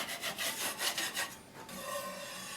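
A putty knife rasps across drywall joint compound, scraping high spots off a first coat in rapid repeated strokes that fade into a softer hiss, close and alone with no talking.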